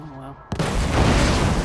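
Fireworks in the virtual-reality game Borderlands 2 VR: after a quiet tonal stretch, a sudden sharp burst kicks off a dense, loud crackling and booming barrage that keeps rumbling without a break.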